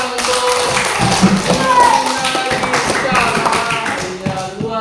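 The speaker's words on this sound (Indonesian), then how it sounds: "tepuk tangan untuk" Classroom audience clapping for a student after a lesson on fable characters: a dense, steady patter of claps for the full few seconds, mixed with voices.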